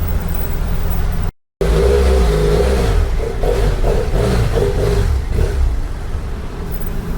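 A BMW F800 GS motorcycle engine runs steady and loud throughout, with a brief dropout early on and some revving surges midway, on a ride across Pag and Rab islands.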